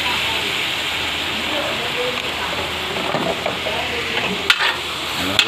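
Ground pork and bitter gourd being stirred in a hot pan, with steady sizzling frying and scraping of the utensil throughout, and a couple of sharper clinks near the end.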